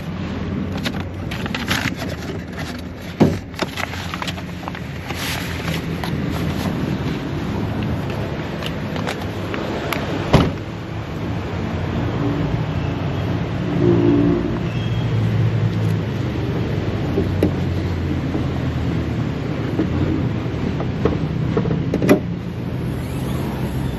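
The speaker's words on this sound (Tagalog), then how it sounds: "Sound pa lang, oh. That's a 5-liter engine." A green Ford Mustang with a 5-liter engine idles at a repossessed-car sale, a steady low rumble running throughout with a few brief clicks and knocks, heard close.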